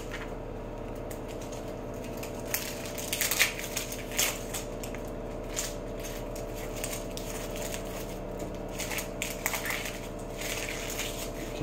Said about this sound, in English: I'm having to peel the first layer off just to make sure everything's legit with this onion.